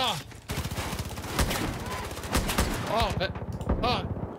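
Gunfire in the video game Far Cry New Dawn: rapid bursts and single shots crack through a busy mix of game noise, with voices speaking over the action.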